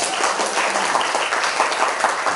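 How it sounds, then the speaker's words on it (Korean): Steady applause from a lecture audience, a dense, even clatter of many hands clapping at close range for a couple of seconds. "박수 한번 주세요."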